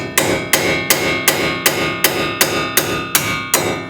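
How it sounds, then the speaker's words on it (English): An old lug nut and key being hammered to knock out worn wheel studs from a Subaru BRZ/Toyota 86 hub, with ten sharp metallic blows at a steady rhythm, loud and close. "using an old lug nut and the key for it to knock out the old studs"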